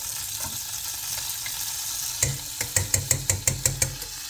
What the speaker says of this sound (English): This is starting to splatter.